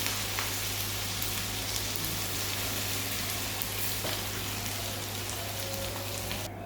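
Ivy gourd sizzles with masala in a pan, a constant soft crackling hiss like light rain that runs evenly throughout over a low steady hum.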